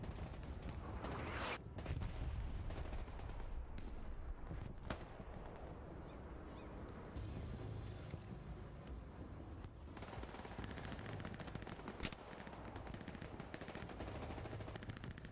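Machine-gun bursts and scattered rifle shots fill a World War II battlefield in the game Hell Let Loose, loud near cracks over a constant rumbling din of distant firing.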